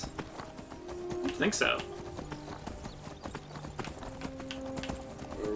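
Horse hooves clip-clop at a steady trot in Skyrim, moderately close and continuous, with brief metallic weapon clatter, under a voice talking throughout.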